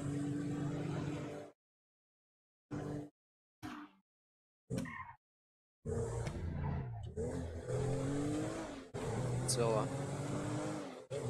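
A car driving in GTA Online, its engine humming and revving in bursts broken by short silences, while someone talks over it throughout.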